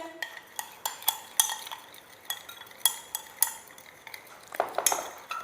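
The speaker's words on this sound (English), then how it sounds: "First we have to be stir the solution." A spoon stirs a solution of copper sulfate and potassium permanganate in a glass, giving a run of bright clinks and scrapes against the side at an uneven pace, close and fairly loud, with no voices.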